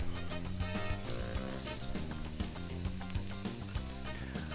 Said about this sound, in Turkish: Ben soğanları atmak için tereyağın erimesini beklemiyorum.